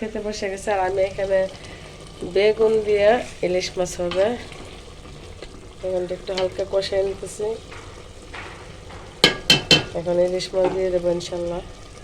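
Fish added with a little water to a hot frying pan in a home kitchen, sizzling and spattering steadily while someone talks over it in bursts.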